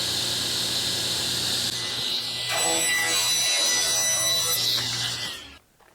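A saw fitted with a rip blade cutting through wood during a farmhouse sink cabinet build, a loud steady close rasping whine that grows harsher midway and then winds down at the end.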